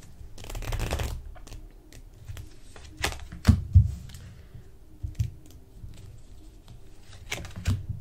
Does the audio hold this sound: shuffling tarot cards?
yes